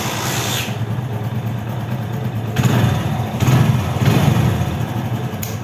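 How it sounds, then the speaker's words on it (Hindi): A motorcycle engine, running with only the magnet coil and body wired, starts and settles into a loud, close idle, a rough rumbling drone with a few small surges in revs. "तो बाइक स्टार्ट हो गई"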